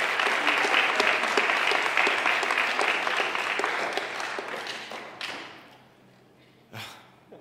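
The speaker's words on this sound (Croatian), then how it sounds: "Molim da jednim toplim pljeskom pozdravite Dominika Bebera" Warm applause from a conference audience welcoming Dominik Beber, editor-in-chief of Džumbus; dense, sustained clapping that thins and fades out, followed by a couple of isolated thumps.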